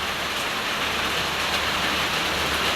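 Heavy rain pours down loudly and steadily, a dense, continuous hiss with no voices.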